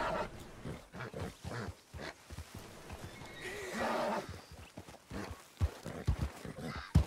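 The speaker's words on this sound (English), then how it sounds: "You're a painted horse." A painted horse in the Red Dead Redemption 2 video game gives a long whinnying neigh, with snorts and hoof clops close by.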